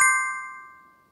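A single bright notification bell ding strikes once and rings out cleanly, fading smoothly over about a second in near silence.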